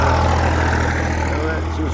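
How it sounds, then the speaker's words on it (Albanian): A tractor engine idles nearby among the spring vineyards of Rahovec, giving a steady low rumble that holds for the whole stretch, with faint voices over it. "Edhe këta me traktor."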